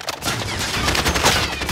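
Gunfire in a battle royale video game, with rapid continuous bursts of shots, loud and close, forming a dense unbroken barrage.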